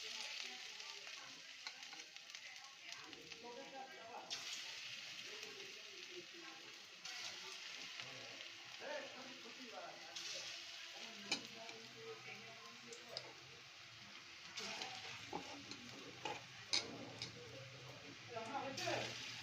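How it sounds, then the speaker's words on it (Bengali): Cauliflower pakoras coated in gram flour batter sizzle and crackle steadily in hot oil, with light ticking pops and an occasional clink throughout. "এই যে এখন তেলে আমি ছাড়বো।"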